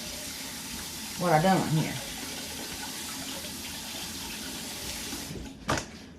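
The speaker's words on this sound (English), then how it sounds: "let me wash my hands" Hands being washed under a running kitchen tap while baking cinnamon rolls, a steady water rush throughout with splashing bursts as the hands move, a short voice partway through and a clunk near the end.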